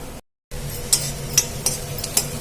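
Onions browning in a pan for a kidney bean curry make a low background sizzle broken by regular sharp scrapes and clicks of the stirring spoon, close up and without speech.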